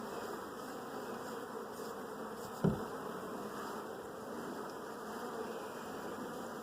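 A steady, low hum of many bees buzzing close by, continuous and even, with one brief soft knock partway through.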